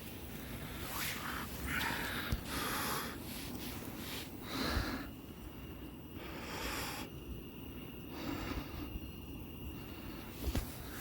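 A hiker on a steep forest trail near Manali, Himachal, hauls a heavy bag uphill and breathes hard in close, ragged bursts. Several loud exhales are spaced irregularly over about eleven seconds, with faint rustling between them.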